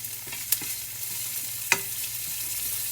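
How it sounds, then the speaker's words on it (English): Vegetables sizzle steadily in a hot pan, a constant crackling hiss broken by a few sharp clicks of stirring. "we got a good sizzle going on our onion and our bell peppers"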